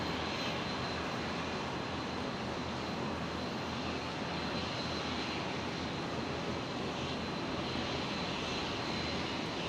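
A Philippine Airlines Airbus A321neo jet taxis toward its departure runway at Brisbane Airport, its engines a steady, loud, broadband roar holding evenly throughout.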